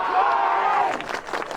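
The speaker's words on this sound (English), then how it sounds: "Listen to the crowd from DUNEDOO." Dunedoo Swans supporters at the 2020 Castlereagh Cup grand final against Gilgandra Panthers raise a loud, sustained crowd roar of cheering and whooping that swells and then breaks into scattered shouts.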